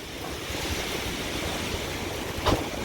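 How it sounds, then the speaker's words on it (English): Strong wind, still blowing around 70 mph in the aftermath of Hurricane Delta, roars as a steady, loud broadband rush with microphone buffeting and a brief stronger gust near the end; no one speaks. "And the wind's still blowing about 70 miles an hour here."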